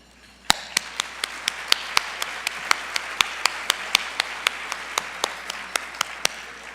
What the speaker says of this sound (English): to applaud all of them